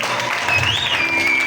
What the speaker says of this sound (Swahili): Hebu mchapie Bwana makofi ya shangwe